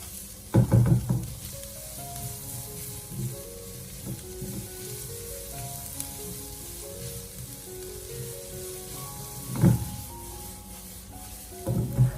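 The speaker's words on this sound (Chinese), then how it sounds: "接着再把洋葱丝添加进来，然后再继续的给它翻炒一下，把它翻炒均匀" Shredded carrot and onion stir-fried in a wok: continuous sizzling with bursts of scraping and tossing near the start, around the middle and at the end, close and steady.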